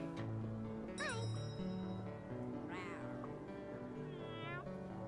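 Repeated cat meows from the Cat Cafe Manager video game, several short rising calls over light background game music while a player talks.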